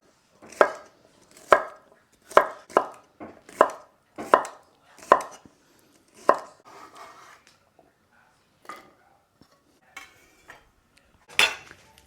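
A knife chops unpeeled cucumbers on a cutting board for a celery salad. It makes about a dozen crisp, close thuds in an uneven rhythm that thin out toward the end, with near silence between cuts.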